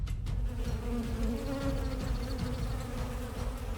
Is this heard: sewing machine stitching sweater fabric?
no